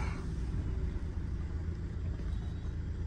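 A Tata Hexa SUV's engine gives a low, steady rumble while the car is being parked. The sound is heard from inside the cabin, muffled and even throughout, with no talking.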